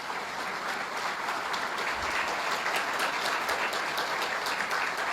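Audience applause at a public gathering, steady dense clapping from a crowd that continues evenly throughout, moderately loud and without pauses.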